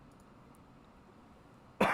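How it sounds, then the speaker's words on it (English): A single sharp cough lands right into a microphone, loud and close, breaking a stretch of quiet room hiss at the very end. "Coughing into the microphone."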